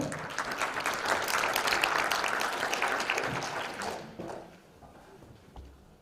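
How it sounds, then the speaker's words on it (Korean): Audience applause breaks out as the chairman of a redevelopment project preparation committee is invited onto the stage at a briefing session; dense clapping for about four seconds, then it tapers off into scattered claps. "여러분들 커다란 박수 부탁드리겠습니다"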